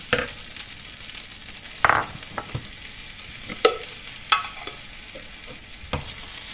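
Potatoes go into a hot pan for sabudana khichdi and are stirred, a low sizzle broken by several sharp spoon scrapes and clinks against the pan, close by with no talking.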